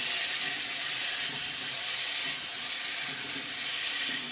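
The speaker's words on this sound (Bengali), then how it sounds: "সুন্দর করে ভেজে নিচ্ছি আলু পটল।" Potatoes and pointed gourd frying in hot oil, a steady loud hiss and sizzle throughout with no talking.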